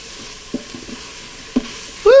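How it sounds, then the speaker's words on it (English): Yellow and green bell peppers sautéing in an Instant Pot, a soft steady sizzle broken by a few short scraping stirs, closing on a brief louder scrape. "we're just going to saute these up and soften them up a little"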